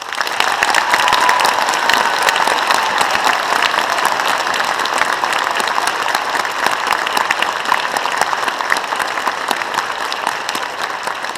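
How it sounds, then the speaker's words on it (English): Concert audience giving teachers a big round of applause at a school concert, loud, sustained clapping from a full hall with many distinct hand claps crackling through for the whole stretch. "they deserve the big round of applause you can give them"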